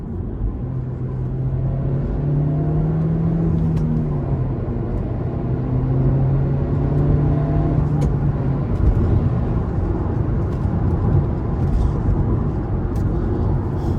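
A slow manual car's engine rumbles and revs as the driver works the clutch and shifts through gears, a loud steady drone that rises and falls with changing pitch throughout.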